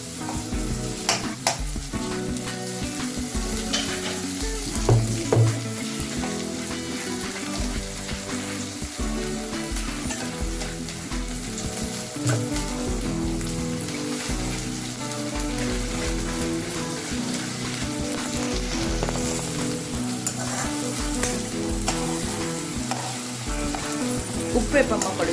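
Ginger garlic paste sautés in a pan with a continuous close sizzle and frying crackle plus occasional stirring scrapes, steady throughout with faint background voices.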